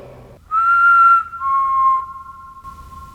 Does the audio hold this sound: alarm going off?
no